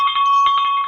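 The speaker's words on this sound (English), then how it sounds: "I'm just gonna ring a bell here for a while." A bell rung repeatedly during a live stream, giving a bright, steady ringing tone with pulsing strikes that carries on continuously and loudly throughout.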